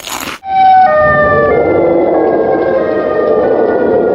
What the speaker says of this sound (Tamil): சைரன் ஹெட் கத்துனதுல எனக்கு காதே போயிடும் போல இருந்தது